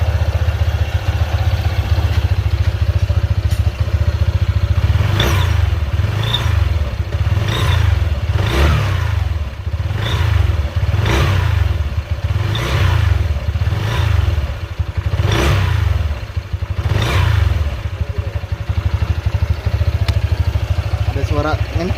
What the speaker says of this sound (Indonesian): Ada suara ngencring ya, sering, itu suara ciri khas dari mangkok kartel itu.